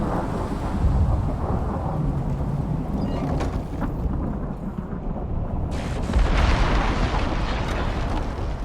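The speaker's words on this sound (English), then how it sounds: "did the lightning get me?" Thunder from a lightning storm in a video game rolls and booms in long, rumbling waves over a steady wash of rain, fairly loud and with no talking.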